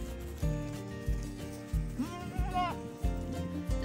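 Goats on a farm homestead bleat in a short series of wavering calls, moderately close, over low rhythmic rumbling background noise.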